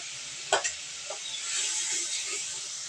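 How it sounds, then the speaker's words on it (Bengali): Ginger and cumin paste with spices frying in a pan for an eggplant chutney, a soft continuous sizzle with a couple of sharp stirring scrapes near the start, close and steady without talk. "আদা এবং জিরা বাটা দিয়ে দিব। দিয়ে ভালোভাবে মশলাটা কষিয়ে নেব।"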